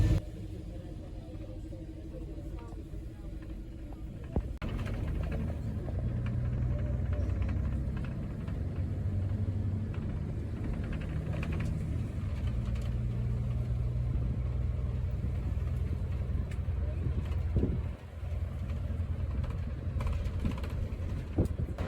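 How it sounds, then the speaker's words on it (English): A tourist bus drives through Zaragoza, Spain, its engine a steady low rumble with mechanical rattles running throughout at moderate level, one brief dip near the end. "The bus is going to continue on. It's going to make a U-turn and then enter into Parque de Agua."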